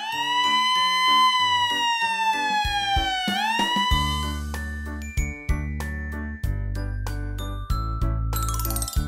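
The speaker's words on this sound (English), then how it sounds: "White, ambulance." A cartoon white ambulance's siren sweeps in a loud, wavering wail, then gives way to a bright, jingly musical tune with bell-like tinkles and steady bass notes.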